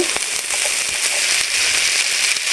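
Mustard oil with bay leaves, panch phoron, ginger and cumin sizzling in a pan, a dense continuous crackle and spitting with scattered sharp pops, close and alone.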